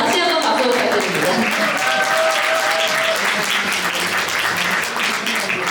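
Wedding guests at a Korean wedding ceremony applaud after the bride and groom bow to each other, giving steady, loud, dense clapping throughout with some voices mixed in.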